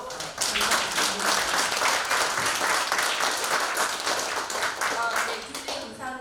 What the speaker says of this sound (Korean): 모두 큰 박수로 감사드립니다